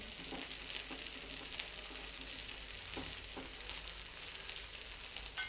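Green pea dosa fries in a pan with oil dribbled around its edges as the second side cooks, giving a steady, close, hissing sizzle throughout, with a few faint scrapes and no talking.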